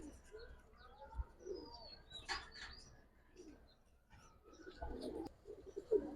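Giribaz pigeons coo softly and close by in a loft, with low burbling coos and light chirps in short bursts, faint and intermittent against a quiet background.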